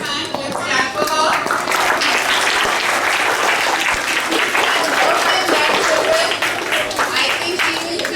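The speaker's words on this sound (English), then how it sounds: "Let's clap for her." Children at a school Independence Day assembly clap together in a dense, steady round of applause that stays loud and continuous throughout.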